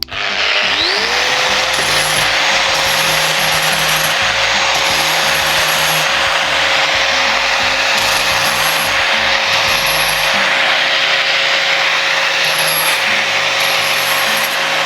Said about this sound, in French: je mets quand même un petit coup de meule parce que quand j'ai coupé mon grillage avec ma pince, il y a des légers picots